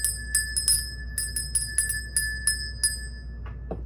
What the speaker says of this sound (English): I'm going to ring the bell and celebrate